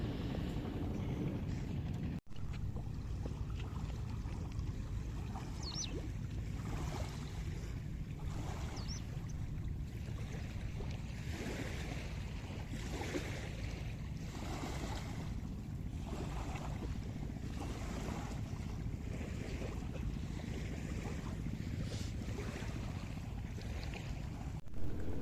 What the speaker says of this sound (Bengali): এখনই আপনাদেরকে একটা সুন্দর মৃদু ঢেউয়ের শব্দ শোনাবো।